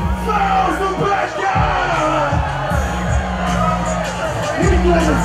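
Loud concert crowd yelling and cheering for a Nigerian rapper at the One Lagos Fiesta 2017, a dense roar of voices with bursts of whoops and deep amplified bass thumping steadily underneath.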